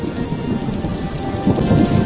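Heavy rain falls steadily in a dense, constant hiss with low thundery rumble underneath, close and loud throughout with no voices.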